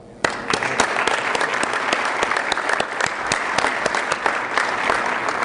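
A room full of members at a Rotary Club of Denver meeting bursts into applause, a dense, loud wash of clapping that holds steady for several seconds without letup.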